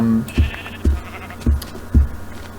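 Sheep in the Minecraft 1.0.0 video game bleat four times in a steady, evenly spaced series, each call short and clear over a faint background hum in a desert biome.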